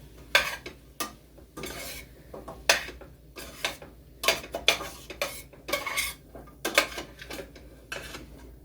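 A utensil scrapes and clatters through onions and sweet potatoes in a pan, repeated irregular strokes of stirring over a faint background sizzle, close and fairly crisp, with no talk.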